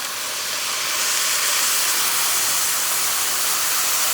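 Steam hisses steadily and strongly from a hot pot of red beans as water hits the dry, browned bottom, a broad, close rushing sound with no talking.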